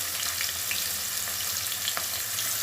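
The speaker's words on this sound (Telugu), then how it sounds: "ఇప్పుడు ఏం వేస్తానంటే ఉల్లిపాయ ముక్కలు వేస్తానండి" Chopped onion pieces sizzle steadily in hot oil with turmeric in a pan, a continuous close frying hiss with occasional stirring clicks, no voices.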